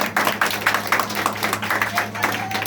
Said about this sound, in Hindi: तो बच्चे अपने लिए ताली बजा दीजिए।